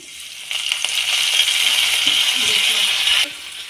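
Mustard seeds and chopped curry leaves frying in hot oil give a broad, crackling splutter for a few seconds, with faint rattling pops near the pan before it quiets down.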